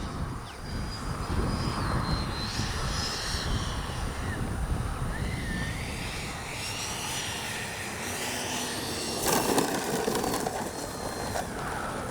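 A Freewing 90mm F-15 RC jet flies overhead, its ducted-fan engine a steady roaring whoosh that swells slightly as it passes, heard outdoors from the flying field with wind noise.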